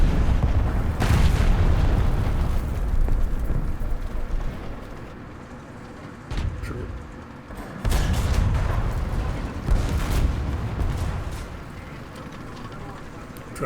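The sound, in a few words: artillery explosions in the video game War Thunder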